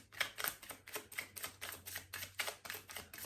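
Tarot cards are pulled from a deck and shuffled in a series of crisp, rhythmic clicks and flicks, fairly close and quiet, repeating steadily with a faint low hum beneath.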